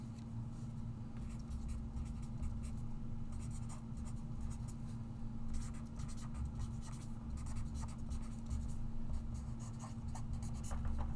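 A Sharpie marker scratches and squeaks steadily across a card as someone signs it, quiet and close with no talking.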